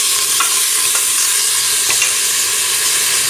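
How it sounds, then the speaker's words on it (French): Meat with spices sizzling as it browns in a pan, a steady bright frying hiss with a few soft clicks of stirring. "Et je fais colorer tout ça pendant 10 minutes."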